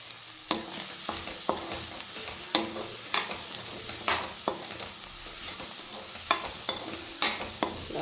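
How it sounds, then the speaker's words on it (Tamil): Drumstick flowers, egg and onion fry in a pan, giving a steady low sizzle with frequent sharp scraping clicks as a spatula stirs and taps the pan at irregular intervals, close and without talk. "கொஞ்சம் ஸ்டீம் கம்மியாக வச்சுட்டு நல்லா ஃப்ரை பண்ணுங்கள்"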